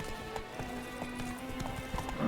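Horse hooves clip-clop at a steady gallop in The Witcher 3: Blood and Wine, close and continuous, with a brief whinny near the end.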